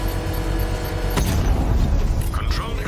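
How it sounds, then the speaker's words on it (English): In Arkham Knight, a controlled bomb explosion is set off with the power winch, a heavy booming rumble swelling over dense game noise and music, with voices talking throughout. "I can use the power winch to trigger a controlled explosion."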